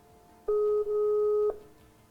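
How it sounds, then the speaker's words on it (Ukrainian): A single steady telephone ringback tone during an unanswered call to a Ukrainian number, one loud beep about a second long over a quiet line, with no talking. "Гудки йдуть. Телефон не відключений."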